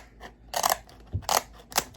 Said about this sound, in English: So these, you can actually cut it with scissors